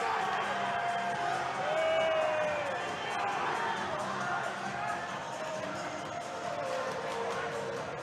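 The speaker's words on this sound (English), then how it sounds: "The crowd is reacting as if players from both teams are going to go." Spectators at a high school ice hockey game between Bishop McCort and South Fayette roar and shout in a sustained, rising-and-falling din of cheers and whoops, heard from within the arena.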